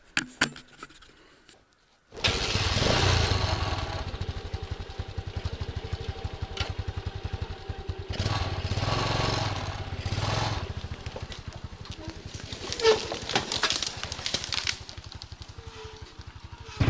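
An Izh Planeta motorcycle with a sidecar and a Chinese-made engine pulls away, its engine catching after a quiet start and then running with a steady rough putter and some clatter, close by.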